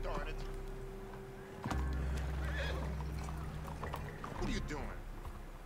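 Horse in the video game Red Dead Online whinnying loudly amid clattering game sounds and steady background hum, with someone talking over it.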